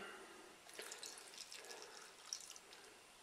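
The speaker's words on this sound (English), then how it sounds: "we're just going to pour some water in" Water poured in to rehydrate food gives a soft, broadband splashing trickle with scattered drips, fairly faint and steady across a few seconds, with no talking over it.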